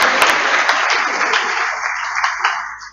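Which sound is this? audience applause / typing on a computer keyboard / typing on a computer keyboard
audience applause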